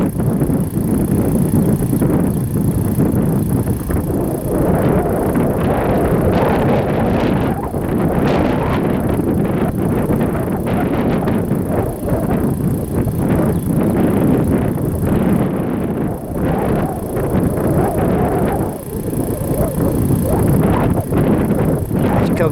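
Strong gusty wind buffets the microphone outdoors during a Proboat Horizon model tugboat sail in New Lebanon, Ohio, a loud continuous rumble that surges and fades throughout.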